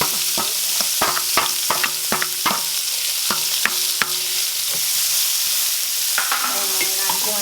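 Tomatoes and minced garlic going into a hot oiled frying pan, giving a steady loud sizzle with repeated sharp clicks and scrapes of a utensil stirring against the pan, no talking.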